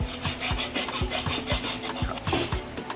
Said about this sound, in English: We are going to just use the hacksaw at this point in time.